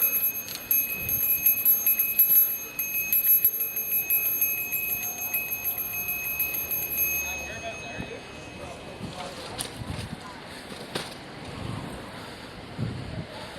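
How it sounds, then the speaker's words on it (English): A bicycle bell rings repeatedly on a busy Toronto city street while cycling, bright metallic tones over traffic and wind noise, with someone talking. "So I'm going to ring my bell."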